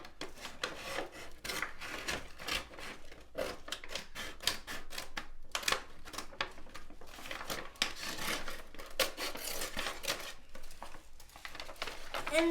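Scissors snip through a paper bag being cut for a book cover, with irregular crisp crunchy slices and rustling paper bursts, close and moderately quiet, in uneven bursts of cutting strokes.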